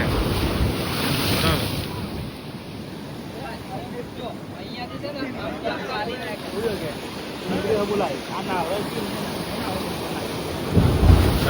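Sea waves at Dwarka beach wash in steadily with gusting wind buffeting the microphone, while people talk over the surf.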